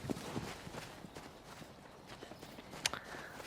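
Horse hooves clip-clop in Shadow of the Colossus, a quiet, steady walking rhythm of soft thuds with one sharper click near the end, no talking over it.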